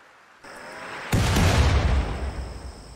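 An artillery volley bursts in the colony game Rimworld: a quiet rumble swells, then a heavy booming explosion strikes and rolls off into a fading roar.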